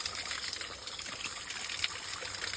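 Natural water flows outdoors in a soft, steady trickle and gurgle, faint and continuous, with no one talking.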